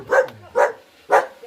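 A dog barks three times in a farming village, each bark loud and close, spaced about half a second apart, with no talking over it.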